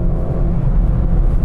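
Low, steady exhaust drone from a car fitted with a Fujitsubo front pipe and muffler on an otherwise stock engine, a dense continuous rumble holding level throughout with no talk over it.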